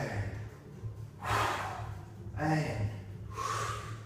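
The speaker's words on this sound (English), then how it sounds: "Breathe in" Audible breaths during a TRX suspension trainer workout, a few distinct airy inhales and exhales spaced a second or so apart, close and fairly clear over a low background hum.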